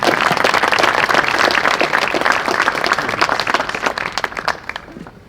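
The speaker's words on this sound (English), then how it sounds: "Can we have one more round of applause for both of them?" A crowd applauds at a school Hall of Fame induction ceremony, a full burst of many clapping hands that holds steady, then thins into scattered claps and fades near the end.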